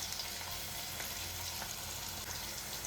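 Ginger garlic paste is stirred in a frying pan for a mixed vegetable dish, giving a steady, close broadband sizzle with a faint low hum throughout and no voices.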